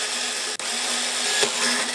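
A steady high-pitched whine of a power drill running continuously, close by, enlarging a hole in a watering can, with a brief dip in the middle.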